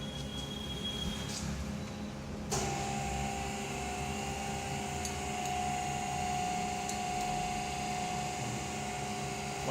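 A fuel pump cover and body bearing assembly machine starts up, a motor hum that steps in abruptly and then runs steadily with a sustained whine and faint intermittent ticks, moderately close.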